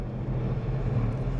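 Freightliner race trucks roar past on the long front straight at the Taupo circuit, a steady loud engine drone from a close vantage point with no talk.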